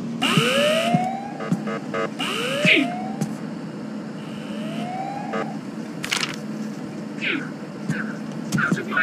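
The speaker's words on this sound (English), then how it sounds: "Sound the alarm." An alarm in the Ice Scream 6 video game sounds as repeated rising whooping sweeps mixed with game effects, bursts and chirps, moderately loud with no clear speech.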